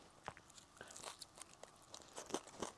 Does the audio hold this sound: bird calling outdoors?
no